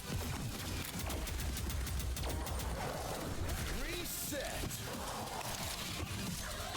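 Rapid weapon fire in Wrack: Reclamation, a steady, dense barrage of quick shots over continuous game sound effects, with a voice talking over it.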